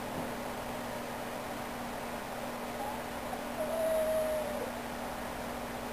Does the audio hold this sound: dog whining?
yes